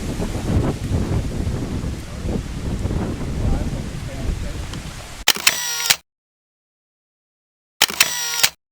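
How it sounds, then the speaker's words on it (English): Wind blows outdoors around an old seminary building, a steady rushing buffet against the microphone for several seconds, followed by a pair of sharp mechanical camera-like clicks separated by silence. "Nice wind."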